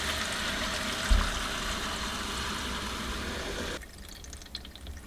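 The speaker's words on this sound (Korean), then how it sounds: "정수기에 물이 들어가는 소리가 들리시죠?" Water rushes into an undersink purifier after a middle valve is opened, a steady hissing flow with a small knock near the start, then the hiss drops abruptly to quieter trickling and faint drips, close by, no talking.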